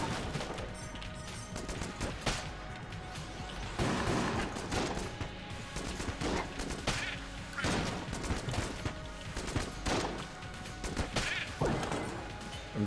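Rapid weapon fire from the video game Enter the Gungeon, a high-fire-rate gun blasting in dense, continuous bursts with crashing impacts and explosions throughout.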